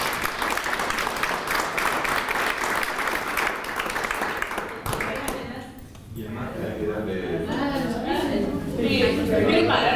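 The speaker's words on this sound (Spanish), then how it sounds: "Un aplauso, por favor." Audience applause for the final two speakers at an academic talk on restoring ecosystem services in productive landscapes, dense steady clapping for about five seconds, then fading into chatter as people talk over the room.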